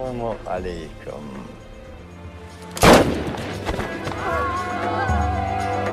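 A single sharp, loud gunshot bursts out midway, following music with a low drone, and the music continues afterward.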